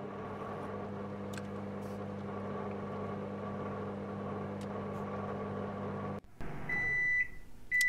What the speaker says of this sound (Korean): 전자레인지에 잡아먹힌 거임?